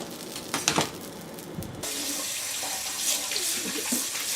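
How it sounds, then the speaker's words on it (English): Cold water from a kitchen tap runs over cooked handmade Chinese noodles, starting with a few splashy bursts, then settling into a steady, soft hiss of flowing water heard close with no talking. "So we're just going to run some cold water through it."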